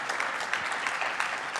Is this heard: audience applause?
yes